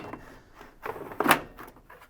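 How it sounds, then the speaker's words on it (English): The soap drawer of a Whirlpool washing machine is pushed back into place, giving a few close plastic slides and knocks that end in a sharper click near the end. "Pop the soap drawer back into place, remembering to push down the tab"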